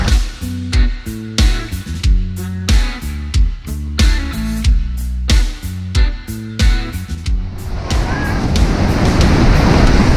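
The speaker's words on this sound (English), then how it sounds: "The creek at the waterfall is just rolling down" Rhythmic music-like tones play for several seconds, then a steady broadband rush of falling water from Bridalveil Fall and its creek in Yosemite takes over, loud and continuous.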